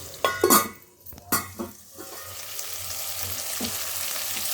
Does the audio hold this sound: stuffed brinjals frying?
yes